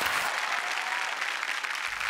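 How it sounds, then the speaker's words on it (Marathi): An audience at a Marathi comedy show's stage taping bursts into loud, dense applause for a play's team, a brief continuous roar of many hands with no voices over it. "जोरदार टाळ्या टीम सेल्फीसाठी"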